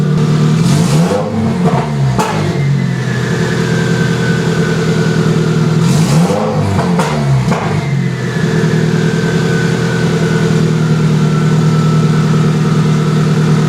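Subaru GC8 with a crackle tune and hood dump revs hard in sharp bursts near 1, 2 and 6–8 seconds, over a steady loud idle drone, with popping crackle between blips.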